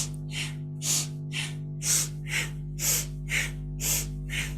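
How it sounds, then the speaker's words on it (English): Powerful kundalini yoga breathing, forceful rhythmic nasal inhales and exhales repeating about ten times in a steady pulse, close and loud over a low constant hum, with no talking. "Powerful breath."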